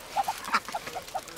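Ducks quack at Lake Beletsi while being fed potato crisps, about six short nasal calls in an uneven run, moderately close and fairly quiet, with no talk over them.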